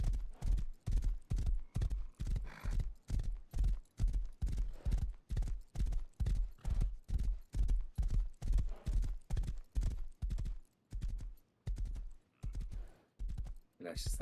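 Steady rhythmic clip-clop of a white horse's hooves at a trot in the video game Rust, loud and close, keeping an even pace throughout before slowing near the end.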